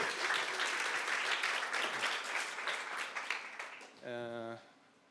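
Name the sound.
audience applause for presenter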